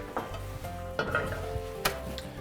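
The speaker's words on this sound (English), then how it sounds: "we're going to put them back onto the grill" Tuscan vegetables sizzle quietly on a grill, with a few soft clinks and scrapes of utensils as they are moved about, no voices present.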